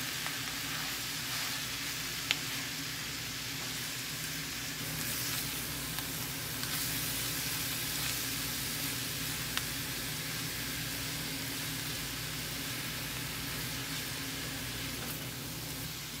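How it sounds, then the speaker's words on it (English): Fruit and cilantro getting a quick sauté in a hot pan: a steady, even sizzle and crackle runs through the whole stretch, with no one talking. "I'm going to add in my fruit and my cilantro. Just give them a quick saute."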